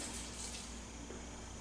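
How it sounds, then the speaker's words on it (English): Vinegar of ordinary 5% acidity poured by the cupful into a boiling pot for marinating hen of the woods mushrooms, a steady broadband rush and splash that runs continuously at moderate level with no talk. "Pour that vinegar in"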